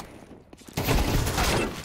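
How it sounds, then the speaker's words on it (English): Burst of M4 rifle gunfire in a Counter-Strike match, starting abruptly after a quiet lead-in and continuing as a dense, loud volley to the end. "Yeah, I dropped M4 for this shot."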